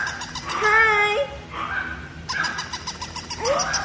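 A small dog lets out high, wavering whimpers and short yips, close and fairly loud, in two or three bursts with quiet gaps between.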